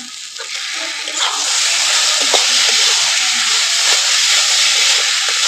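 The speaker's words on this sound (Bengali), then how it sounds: "একটু নেড়ে ছেড়ে আমি 2 মিনিটের মতো এটা রান্না করে ভেজে নেবো ভালো করে।" Soaked, drained rice hitting a hot pan and being stirred with spices: a loud, sustained steamy hiss and sizzle that swells after a second and holds steady, with faint scraping underneath.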